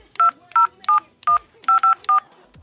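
A phone keypad beeps out about seven evenly spaced DTMF tones while a document number is keyed into an automated Argentine election information line, each tone crisp, short and loud, with a brief quiet gap between presses.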